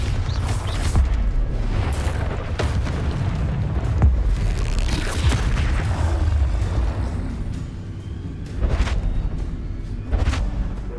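Booming blast from the Bombarda explosion spell in the video game Hogwarts Legacy, a loud low thud within continuous game sound effects, with a few sharp bursts through the stretch.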